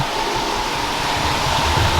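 Water pouring over a splitter box at an activated sludge wastewater plant, a steady loud broadband rush like a small waterfall, constant and close for the whole stretch, with no talk.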